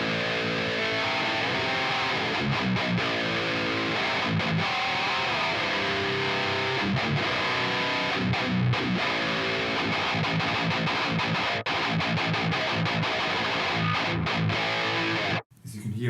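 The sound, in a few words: Mesa Boogie Triple Crown amp simulation, nasal distorted guitar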